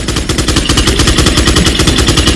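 Sustained rapid gunfire in a Leon Kennedy versus J.J soldier video game fight: a loud, close, evenly spaced automatic stream of shots rattles without pause throughout.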